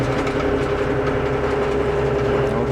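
A John Deere MX7 field mower runs with its blades spinning at 310 RPM, giving a steady, close, low engine drone with a constant hum and no pauses.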